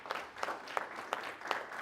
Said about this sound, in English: give Stephanie and the team together, the whole group, a round of applause